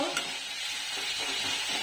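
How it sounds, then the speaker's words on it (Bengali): Onion and another ingredient fry in a pan next to a simmering white sauce for pasta. A short, close burst of sizzling is heard with some stirring scrapes, and no one speaks. "পেঁয়াজ আর এটা ভাজা হচ্ছিল"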